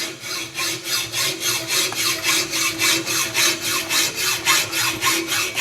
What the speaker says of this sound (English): a common hacksaw, right, we're making pretty good progress with the first couple strokes